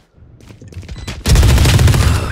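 Gunfire in the video game Valorant: a short rapid burst of shots that swells into loud, dense continuous automatic fire, close and alone.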